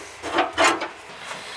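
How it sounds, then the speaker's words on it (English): Back window of a John Deere 318 garden tractor's Cozy Cab opens with two quick rubbing, scraping strokes of the panel, then a faint trailing rub, close and brief with no talking. "This back window does open."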